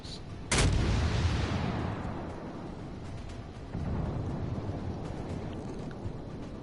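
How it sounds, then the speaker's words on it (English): Battleship main guns firing a broadside in World of Warships, a single massive close boom followed by a long rumbling decay and ocean-like roar, with a second swell of low rumble a few seconds later. "So I'm gonna unleash my guns"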